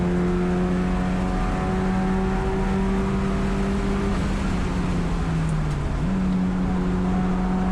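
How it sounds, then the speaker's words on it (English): A Mitsubishi Lancer Evolution race car drives hard around Thunder Hill East, with a steady engine drone and whine heard from inside as it pulls through a turn, the pitch dipping and then climbing again. "Back on the gas, and the car pulls really well to the outside"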